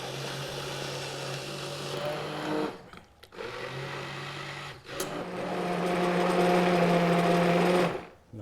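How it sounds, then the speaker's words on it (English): A steady motorized whir from a handheld stick blender running at low speed through curried parsnip soup, with two brief pauses and a slightly rising pitch near the end. "Stick blender, slow speed first."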